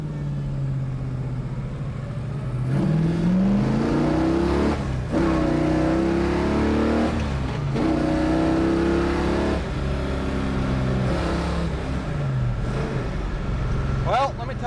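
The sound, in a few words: 1967 Chevrolet Chevelle SS engine accelerating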